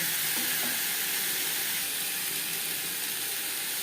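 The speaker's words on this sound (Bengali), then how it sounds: "লবণ হলুদ দিয়ে পটলের সাথে আলুও ভেজে নেব।" Pieces of potol (pointed gourd) and potato fry with salt and turmeric in a pan, giving a steady, close hissing sizzle that holds evenly throughout with no talking.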